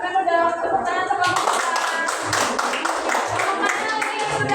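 A classroom group claps together during a microteaching session, a burst of many hands starting about a second in and continuing steadily at close range, with children's and adults' voices talking over it.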